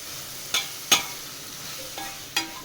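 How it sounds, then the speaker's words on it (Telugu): Broad beans (chikkudukaya) frying in a pan at home, a soft continuous sizzle broken by four sharp spatula clacks and scrapes spaced irregularly, close and moderately loud with no talking. "చిక్కుడుగాయ వండుతున్నా చిక్కుడుగాయ ఫ్రైయా"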